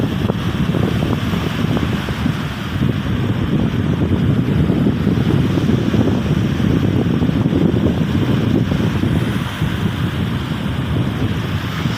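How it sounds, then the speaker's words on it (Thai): Cool sea breeze blowing steadily across Kamnan Beach on the Chaiya coast, a dense continuous rush of wind buffeting the microphone with surf underneath, loud and unbroken throughout. "ลมทะเลเย็นๆนะครับพัดโชยนะครับ"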